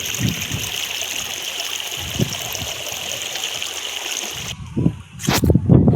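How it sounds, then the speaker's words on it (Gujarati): Water pours and gushes steadily under a constant mechanical hum from a running pump motor, then the hum cuts away, leaving splashing and a few thumps. "અહીંયા જો મોટર ચાલુ છે દેખાડું તમને"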